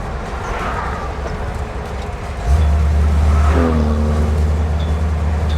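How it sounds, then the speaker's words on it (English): A Honda car fitted with a loud aftermarket exhaust passes close by, its low droning rumble swelling abruptly and holding steady, heard from inside a moving 1974 Jeep CJ5 with road noise underneath. "That was a Honda with the fart can on the back of it that just passed us"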